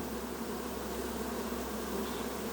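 Bees swarm around a bee watering station at a large apiary in intense heat, making a steady, close buzzing drone that continues without a break.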